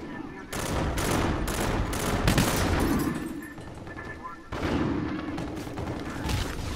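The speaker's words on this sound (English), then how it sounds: "I hate getting shot in the back." Gunfire in Call of Duty Infinite Warfare comes as loud bursts of rapid automatic shots in clusters with short gaps, set against game background noise.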